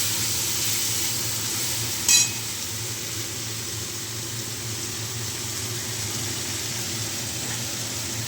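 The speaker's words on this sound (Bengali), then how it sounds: "দেখো এই যে সব কিছু কিছু ভাজা হচ্ছে।" Mutton fat curry with vegetables frying in a pan, a steady close sizzle and hiss running throughout with one brief louder crackle early on, no talking.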